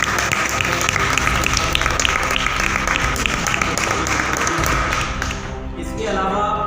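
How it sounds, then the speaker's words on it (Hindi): Loud, dense applause from a large audience at a music and art competition in Sitapur, run by the festival committee and Hindi Sabha. It goes on steadily and thins a little near the end. "जोरदार तालियों से"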